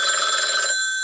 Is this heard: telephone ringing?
yes